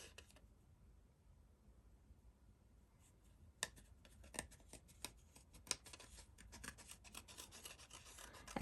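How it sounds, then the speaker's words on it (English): Scissors cutting out a paper leaf shape for a handmade gardener card, quiet rasping snips and paper rustle that grow busier and more rhythmic in the second half, close up. "So what we're going to do is we're going to cut this leaf out."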